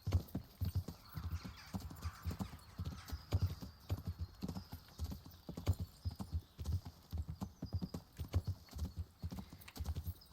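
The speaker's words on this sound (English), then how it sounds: "Corre, caballo, corre." A horse in Kingdom Come: Deliverance gallops with rapid, rhythmic hoofbeats and a brief whinny, steady and close for about ten seconds.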